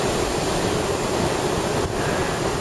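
Angry sea waves break on a beach beside a pier in a constant, loud wash of surf, with gusting wind buffeting the microphone and no voices.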